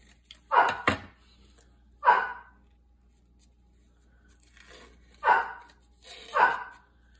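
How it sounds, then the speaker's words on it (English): A dog barks indoors in four short, sharp bursts, the first a quick double, each separated by quiet pauses, with no talking over it. "You know what he's barking about?"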